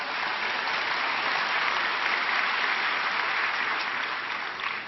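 A congregation claps at a Sunday church service at Onnuri Church, giving steady, dense applause that fills the room evenly throughout.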